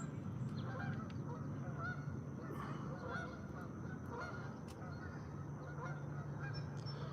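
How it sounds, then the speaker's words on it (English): A flock of geese outdoors at sunrise keeps up a continuous chorus of overlapping honks, moderately close and steady throughout, with no talking. "Some geese in the foreground."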